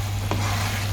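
Tomato sauce for penne arrabiata simmers and sizzles in a pan, a steady close frying hiss with a brief scrape of stirring partway through.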